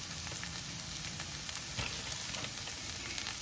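Capsicum and mushroom sizzle in a pan as they are stirred, a soft, steady frying hiss that stays fairly quiet and even throughout.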